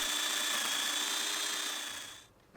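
Domino joiner cutting mortises into a plywood divider at a workbench, a steady high-pitched motor whine with cutter rasp held for about two seconds before spinning down, close and alone.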